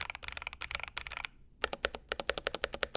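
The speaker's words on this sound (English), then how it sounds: "it marks the return of Razer's orange tactile mechanical switches" Razer gaming keyboard with orange tactile mechanical switches, hot-swappable, typed on up close: two quick bursts of crisp, rapid clacking keystrokes separated by a short pause, loud and alone with no voices.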